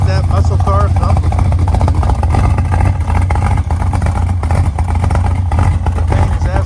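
A 1970 Corvette Stingray with an L46 350 V8 runs with a loud, steady low thumping idle throughout, and a voice is heard over it.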